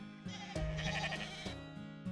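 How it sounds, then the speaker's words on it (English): A flock of sheep bleats in the Fate/Grand Order game scene, several wavering calls overlapping and following one another, fairly close and clear with no talk over them. "There's a flock of sheep coming this way."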